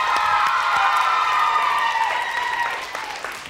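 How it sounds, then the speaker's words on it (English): A school quiz-show audience applauds and cheers a team, with a loud crowd roar of clapping and shouts that gradually fades. "Give them a round of applause."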